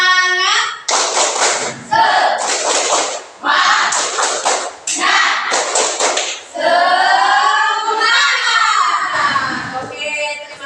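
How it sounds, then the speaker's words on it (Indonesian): A group in a classroom or training session performs a rhythmic spirit clap together, with bursts of unison clapping broken by chanting voices, loud and close. "Tepuk semangat"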